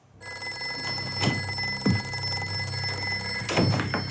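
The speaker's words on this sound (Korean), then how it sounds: "퇴근 시간에 맞춰 항상 전화가 울렸어요" A telephone rings with a steady electronic tone. Soft knocks and thuds sound nearby, and no voices are heard.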